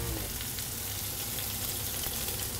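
Scallops sear in olive oil in a hot pan, giving a steady, close sizzle and crackle that holds evenly throughout without speech.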